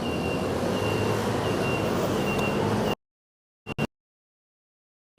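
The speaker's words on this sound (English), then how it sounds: "Is my daughter's school bus, which means she's home now." A school bus arrives home, its engine giving a steady, loud rumble with a thin high tone on top for a few seconds before cutting off abruptly, followed by a couple of brief knocks in near silence.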